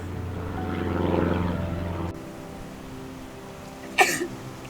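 A single sharp sneeze near the end, loud and close, after a stretch of droning ambient noise at a riverside mudlarking spot during a very high tide.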